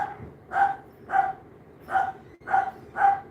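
Dogs bark indoors in a regular series, about six sharp barks spaced roughly half a second apart, fairly close and loud with quiet gaps between, and no one talking over them.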